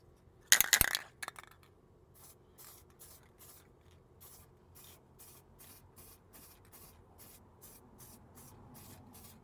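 A sharp metallic rattle and hiss of a spray paint can near the start, then a soft, evenly repeating pattern of short hissing bursts over small repair spots.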